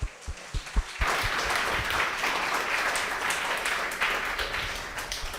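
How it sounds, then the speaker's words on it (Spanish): A few scattered claps, then a crowd bursts into loud sustained applause that continues steadily to the end. "le damos un fuerte aplauso"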